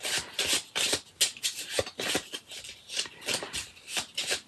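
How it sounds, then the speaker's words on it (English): A stack of cards shuffled by hand in a steady run of rapid riffling bursts, close and fairly loud, with no talk over it. "So I'm going to shuffle all these."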